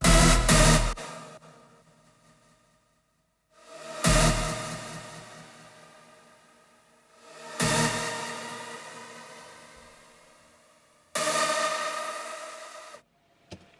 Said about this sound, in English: so it just adds reverb, delay, a riser